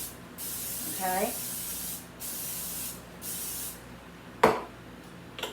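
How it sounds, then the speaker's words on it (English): Olive oil cooking spray is sprayed onto spaghetti squash in one short, sharp hiss, close and clear after a brief spoken word and some quiet talk. "I'm gonna spray it with some olive oil spray."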